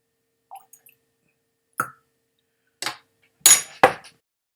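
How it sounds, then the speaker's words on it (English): Water is added to a glass of High West Double Rye whiskey: a few faint, scattered drips, then two or three sharper close clinks and splashes, each separated by silence. "Let's give it a bit of water, see what happens"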